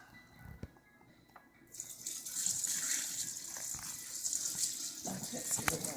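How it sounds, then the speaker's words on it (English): Water gushes into a Base Camp portable washing machine for the rinse, starting after a quiet moment with faint knocks and then pouring steadily and fairly close until the end. "we need to put more water in for the rinse"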